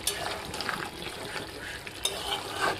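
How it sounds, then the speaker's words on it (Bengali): Chicken stir-frying in a pan with capsicum and tomato, with a soft continuous sizzle and scraping stirs of a spatula, close and moderately quiet. "ক্যাপসিকাম টমেটো দিয়ে চিকেন হচ্ছে।"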